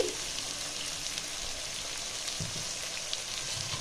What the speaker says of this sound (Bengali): লবণ দিলে ভালো করে একটু ভাজা হয়ে যাবে, তাড়াতাড়ি পেঁয়াজটাও গলে যাবে